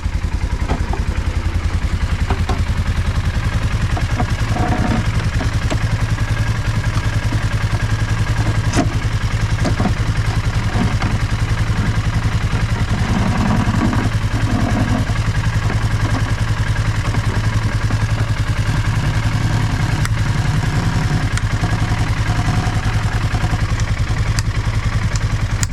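A snowed-in engine, still puffing a little smoke, idles and warms up after a snow storm, with a steady low rumble and uneven mechanical clatter running continuously at close range.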